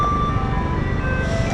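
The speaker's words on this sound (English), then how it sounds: "That's the garbage truck, if you're wondering. It's not an ice cream truck." A passing garbage truck rumbles loudly and steadily nearby, its engine drone joined by a sustained high tone that sounds like a melody from an ice cream truck, with no speech.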